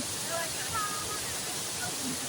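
Water pours down a waterfall at a tourist spot, making a steady, loud, full rushing wash that does not let up, with faint voices under the roar.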